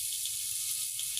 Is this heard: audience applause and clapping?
no